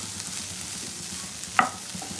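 A vegetable mixture fries in a pan as its water cooks off, giving a soft, even sizzle close by with one brief sharp clink of a utensil near the end.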